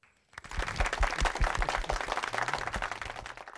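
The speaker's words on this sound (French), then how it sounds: "On applaudit pour Vlisco." An audience applauds at a Miss RDCongo pageant show, a dense steady wash of clapping that starts abruptly and holds loud and even throughout, with a faint low voice briefly audible beneath it.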